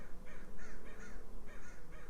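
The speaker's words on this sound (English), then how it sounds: "Can you guys hear that? Those are the crows." A group of crows caws repeatedly outdoors in a rough, uneven rhythm of harsh calls at moderate distance, over faint background noise.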